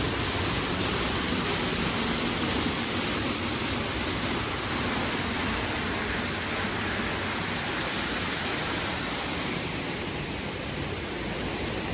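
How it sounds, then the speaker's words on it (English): Waterfall at the Canada pavilion of Epcot, a steady, loud broadband rush of falling water that stays constant throughout, close by and unbroken, with no voices over it. "the waterfall is going to be right back here on your right"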